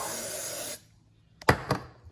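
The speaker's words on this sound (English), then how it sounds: "Full sprays from the aerosol can into the" An aerosol can sprays into a glass jar: a steady loud hiss that cuts off, followed after a pause by a couple of short sharp bursts or knocks.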